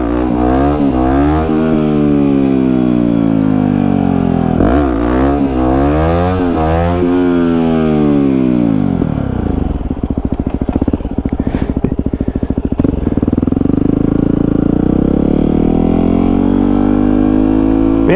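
A 2009 Yamaha WR250X supermoto motorcycle revs hard through rising and falling sweeps during a wheelie, loud and close, then drops to a rough, pulsing idle with wind noise.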